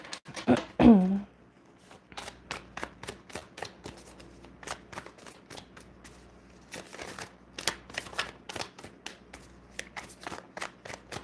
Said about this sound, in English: I'm going to put all of these back in the deck and shuffle.